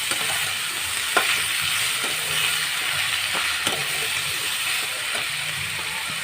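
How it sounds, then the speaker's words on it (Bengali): Boiled water spinach frying with onions in a pan is stirred, giving a steady close sizzle broken by several sharp spatula scrapes and knocks against the pan at irregular intervals. "ভালো করে নাড়াচাড়া করে নেব।"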